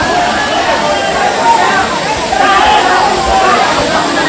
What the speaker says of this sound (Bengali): এখন আমরা চলে এসেছি স্বচ্ছধারা ঝর্ণায়।